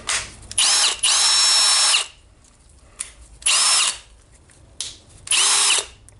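A Milwaukee M18 BLPD cordless drill whirs in three short high-pitched bursts of about a second each, separated by quiet gaps, with brief clicks of the trigger between runs.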